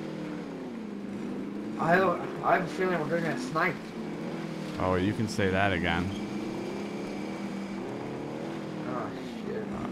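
A car drives in the Warzone video game, its engine a continuous low hum running beneath people talking over it.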